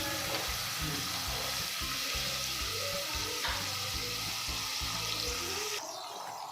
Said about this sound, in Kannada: ಸ್ವಲ್ಪ ಕರಿಬೇವು, ಚೆನ್ನಾಗಿ ಫ್ರೈ ಮಾಡ್ಕೋಬೇಕು.